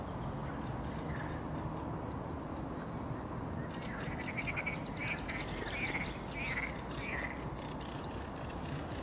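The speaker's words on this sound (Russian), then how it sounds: "Лягушки запели." Frogs croak by a river amid a dense, steady wash of outdoor ambience, with a cluster of repeated croaking calls rising in the middle, and nobody talking.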